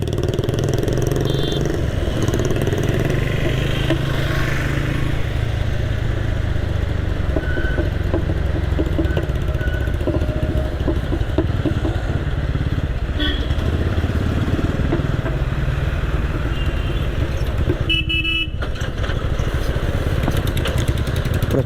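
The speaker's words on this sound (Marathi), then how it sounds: "बुलेटवाले काय सुधारत नाही वाईट प्रकारचं सायलेन्सर लावतात आणि अशा प्रकारे उडवत जातात" A Royal Enfield Bullet motorcycle with a loud aftermarket silencer rumbles loudly and continuously close by on a Kalyan city street, steady throughout, with occasional sharper bursts and faint voices underneath.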